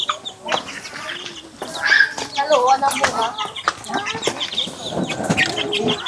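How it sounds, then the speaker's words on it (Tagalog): Chickens cluck and squawk around a farmyard in Capiz, Philippines, with people talking over the busy, scratchy background. "daming manok dito"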